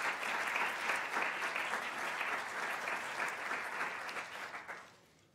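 Audience applause at a spectrum policy conference at Colorado Law, a steady dense round of clapping from a seated crowd that holds for about four seconds before tapering off.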